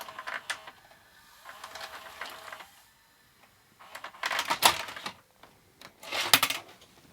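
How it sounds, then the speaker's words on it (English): A VCR ejects a cassette tape with several short bursts of clicking and whirring mechanism noise, separated by quiet gaps, the louder clatter coming toward the end, close and fairly faint. "Does it eject properly? How do I eject? Oh, eject. It has a separate eject button."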